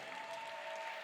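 An audience at an evening party applauds in a steady, dense wash of clapping that holds evenly throughout, with a faint ringing tone running underneath.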